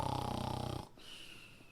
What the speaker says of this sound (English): It was curiously similar to the sound of a sleeping bear snoring.